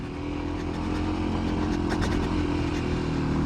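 A Kawasaki KLX300 dirt bike rides along trails, its engine droning steadily at close range with light clattering and small surges in revs throughout.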